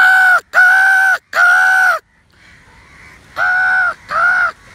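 A voice imitates crows, giving five loud, harsh caws, three in quick succession, a short pause, then two more, out among trees.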